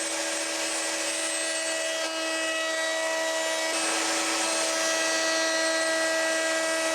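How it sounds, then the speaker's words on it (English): A router cuts a chamfer along a curly American walnut board for a serving tray, a loud, continuous high-pitched whine with a steady tonal hum, close up and without speech. "So that's the chamfer done, now time for the round over."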